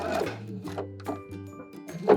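A sewing machine stitches a dart in fabric for a bias cut gown, its motor whirring in short, close bursts separated by brief pauses.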